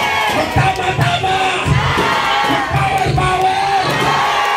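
A large audience at a Filipino business event shouts and cheers loudly and continuously, with rhythmic collective yells rising throughout.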